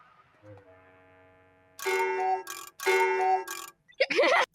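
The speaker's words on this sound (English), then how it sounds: "So the cuckoo clock, we were going to have a cuckoo sound every time Crocker acted weird." A cartoon clock sound effect from a Fairly OddParents episode: a soft sustained chime tone, then two loud bursts of clock ringing, then a short, sharp chirping cuckoo-like call, close and clear.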